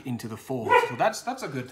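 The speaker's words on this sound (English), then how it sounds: "Sorry about the dog." A dog barks and yips intermittently in the background of an indoor room while someone talks over it, the barks mixed closely with his voice.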